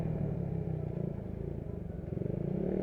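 A Suzuki Raider 150 motorcycle engine drones steadily during a ride alongside an Aerox 155, with a close, continuous rumble and faint clatter and no speech.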